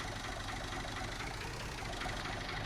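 A tractor in Farming Simulator 19 creeps along very slowly beside a field: a steady, chugging engine drone with a low knocking rumble, close and unbroken, with no voices over it.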